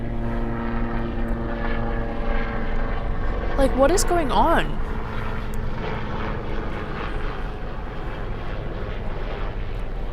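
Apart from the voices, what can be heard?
helicopters flying overhead in New York City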